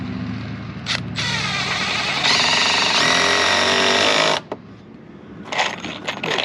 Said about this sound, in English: We're going to use the M12 Surge now to put these 3-inch torque screws in.